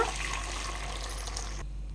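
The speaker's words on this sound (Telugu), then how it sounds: "ఇలా ఒక చిల్లులు గిన్నె లేకైతేనా అన్నీ వంపేసుకోవాలన్నమాట" Soaked soya chunks are tipped into a colander so their soaking water drains away, a brief splashing pour that cuts off abruptly near the end.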